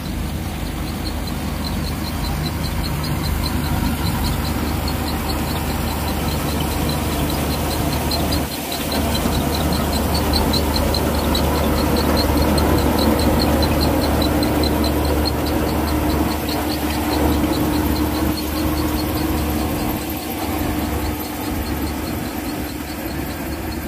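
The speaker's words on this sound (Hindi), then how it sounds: "बिल्कुल साउंड लेस है भाई, और जबकि 1600 आरपीएम पे चल रहा है ना, ये कुबोटा की सबसे बड़ी खासियत होती है।" A Kubota 5501 tractor engine runs steadily at 1600 rpm, a continuous even diesel hum with a faint regular ticking, close by and uninterrupted for the whole stretch.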